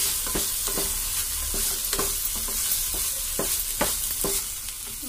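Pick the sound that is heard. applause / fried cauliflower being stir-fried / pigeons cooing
fried cauliflower being stir-fried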